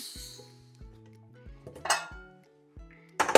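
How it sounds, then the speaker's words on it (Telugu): A metal pot lid comes off cooked bagara rice amid close clinks and knocks of cookware, several separate taps with a bright scrape or clatter near the middle and end. "మూత కూడా తీసేసి ఒకసారి మిక్స్ చేద్దాం"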